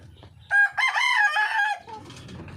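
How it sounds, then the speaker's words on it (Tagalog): A chicken crows once, loud and close, a long drawn-out call, framed by soft clucking and faint background sounds before and after. "Manok tugaw."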